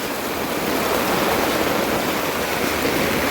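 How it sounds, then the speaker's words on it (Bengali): Heavy rain pours steadily onto a house under construction where a kitchen roof slab has just been cast, a dense continuous hiss of water with no voices. "হঠাৎ করে খুব বৃষ্টি নামছে"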